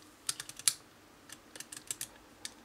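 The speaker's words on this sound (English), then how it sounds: "In typical vintage camera lens fashion, nice and noisy there." Vintage Carl Zeiss Jena 70-210mm f4.5-5.6 zoom lens giving a run of sharp, irregular little clicks and ticks as it is handled, close up and fairly faint over a quiet background.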